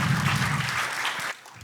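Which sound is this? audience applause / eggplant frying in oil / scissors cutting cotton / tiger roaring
audience applause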